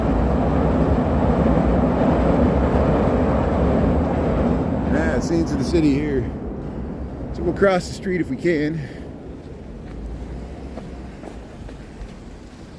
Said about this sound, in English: Here comes the train here. We'll get the train here. Chicago Brown Line.